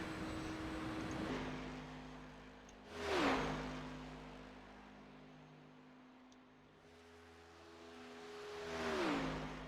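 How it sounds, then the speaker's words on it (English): A Cadillac CTS-VR race car on a superspeedway oval, engine note rising and falling with shifts, loud in-car drone with two surging passes or revs, sustained and alone without talk. "These cars do sound amazing"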